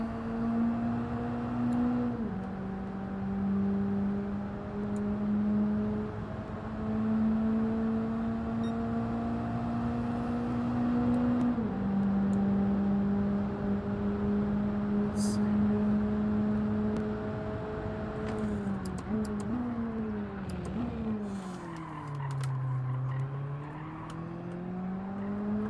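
Race car engine in Gran Turismo 7, droning steadily with sustained revs, then shifting and dropping in pitch as it brakes for a corner, continuous and close throughout.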